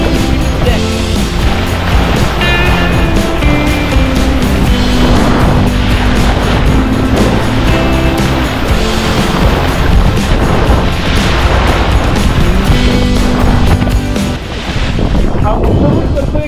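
A small boat moves out on the sea off Chivla Beach near Malvan in Konkan. A loud, steady engine roar is mixed with heavy wind buffeting on the microphone and rushing water throughout.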